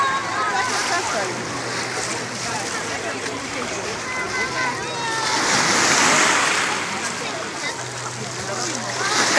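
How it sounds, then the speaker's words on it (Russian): Sea waves of the Black Sea at Lazurny beach, Lazarevskoye, wash and splash continuously nearby, swelling louder midway, with a low engine-like hum underneath. "Вот такие волны сейчас"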